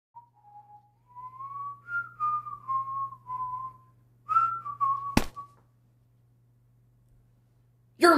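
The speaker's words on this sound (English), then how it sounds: "You whistle off key." A lone person whistles an off-key, wavering tune in short phrases with pauses between them, close and clear, followed by a sharp click and a brief burst of noise at the end.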